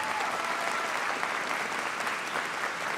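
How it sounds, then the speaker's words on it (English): A crowd at a Florida Southern winter commencement ceremony gives a round of applause, a dense, steady roar of many hands clapping that holds at a constant level throughout. "Could you just give a round of applause for the people that supported you during this journey?"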